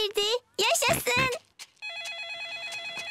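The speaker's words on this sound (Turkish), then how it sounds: "Baba domuzun cep telefonu çalıyor." Daddy Pig's mobile phone rings in a Peppa Pig cartoon, a warbling electronic ringtone starting after a narrator speaks and then sounding alone, steady and clear.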